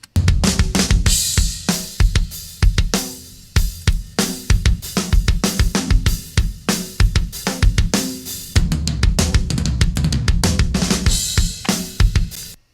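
Full metal mix through a bus with a 175B limiter in limit mode and API EQ, dense and loud with pounding drum hits and heavy distorted guitars, a brief drop near the middle before the wall of sound resumes.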